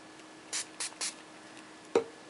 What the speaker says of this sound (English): I'm just going to spray the top and then the bottom